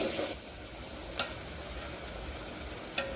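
Red chilli powder, coriander and curry leaves sizzle in hot oil as a tempering for spicy-tangy moong dal varan, a steady close frying hiss with a couple of brief sharp clinks and no talking.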